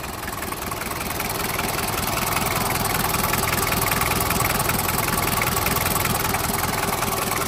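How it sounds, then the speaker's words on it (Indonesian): Standard 2800cc diesel engine of a 1997 Daihatsu Taft Rocky F78 4WD idling, a loud, steady, close-up clattering rumble that holds even throughout with no voices. "Untuk mesinnya standar 2800cc diesel. Suaranya renyah, no ngobos."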